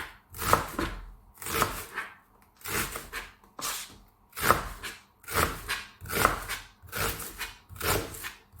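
An onion is chopped with a knife on a cutting board, giving a steady series of about ten crisp, close knocks at an even rhythm, with no talking.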